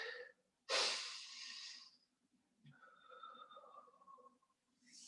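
Deep breaths taken during a stretching exercise come close and distinct: a strong, loud exhale, then a softer, longer airy breath with a whistling tone, and the start of another breath at the end.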